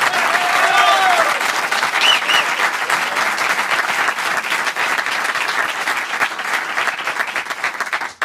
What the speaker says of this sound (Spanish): Fuerte el aplauso, señor.